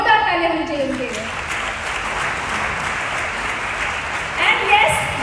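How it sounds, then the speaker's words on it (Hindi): A large audience applauds their mentor Dharmendra Maan at an event, with sustained loud, dense clapping throughout and a voice audible over the start. "एक बार जोरदार तालियां होनी चाहिए उनके लिए।"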